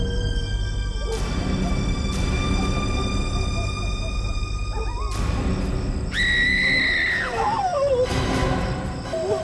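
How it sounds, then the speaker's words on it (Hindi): A woman in a TV crime drama scene lets out a sudden, sustained high scream that trails off in a falling wail, heard over ominous background music. "वो चीखने की आवाज किसकी थी?"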